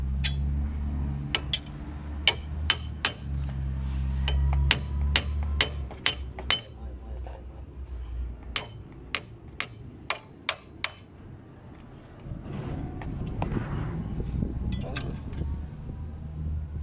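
Hammer blows ring out on the front wheel bearing of a Ford Focus 1.6 TDCi during a bearing replacement, a long series of sharp metallic strikes in irregular bursts over a steady low rumble, with occasional talk nearby.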